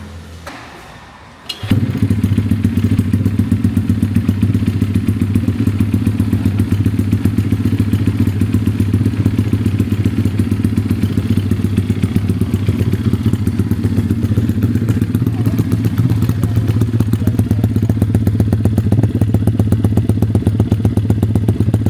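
A vehicle engine fires up abruptly after a short quiet lead-in at a valley drag-run event in Lonavala, then settles into a loud, close, steady idle with a fast, even beat that lasts to the end.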